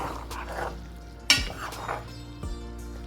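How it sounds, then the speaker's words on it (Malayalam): Mutton curry with macaroni simmering in a pan, with soft bubbling, a few scraping stirs and one sharp clink of a utensil against the pan, with no voices. "ഒന്ന് തിളച്ച് വറ്റി വരുന്നത് വരെ നമുക്ക് തീ കത്തിച്ച് കൊടുക്കാം"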